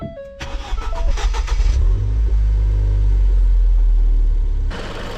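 A repaired Ford Fiesta ST180 with a rebuilt cracked cylinder head cranks, fires and settles into a loud, steady idle close by. A brief rev follows, and there is no talk.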